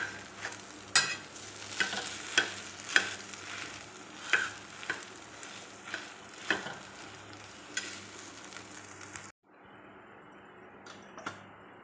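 Omelette-like gram flour batter roasting on a griddle pan gives a close, steady sizzle punctuated by regular metallic scraping strokes of a spatula, ending in a sudden drop to quieter sizzling.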